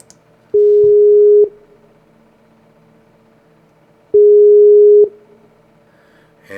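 Telephone ringing tone on an outgoing call, two long steady electronic tones about a second each separated by a few seconds of quiet, clear and close.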